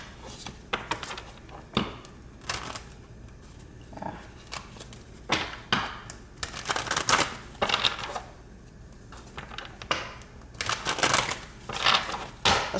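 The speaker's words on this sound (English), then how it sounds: "2 more shuffles." Cards are shuffled repeatedly, producing quick riffling bursts and soft slaps, close to the microphone with short pauses between rounds.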